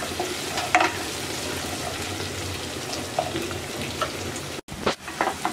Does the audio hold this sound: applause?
no